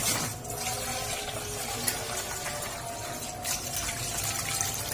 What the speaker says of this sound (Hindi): अब दोबारा से पानी ऐड करेंगे।